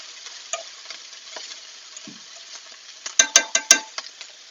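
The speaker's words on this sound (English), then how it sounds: "going to give these mushrooms a little bit of a coating of the olive oil and the garlic" Mushrooms with olive oil and garlic being stirred in a hot pan, soft sizzling under scattered scraping, then a cluster of sharp utensil knocks against the pan near the end.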